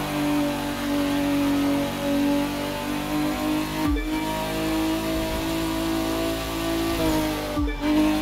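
A Nissan Skyline GT-R R34 touring car in The Crew 2 drones at high revs, holding a steady engine note. It cuts sharply twice, as if shifting gears, then climbs again.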